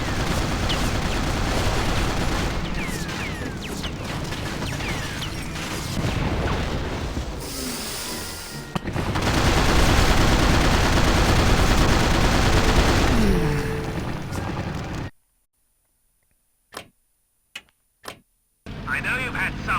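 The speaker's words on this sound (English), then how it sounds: "Our machine guns are sufficient." Machine gun fire and engine roar from a World War II air combat game with Swordfish aircraft: sustained loud rattling bursts over a droning engine, then abrupt silence broken by a few short sharp bursts.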